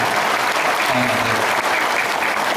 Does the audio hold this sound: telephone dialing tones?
no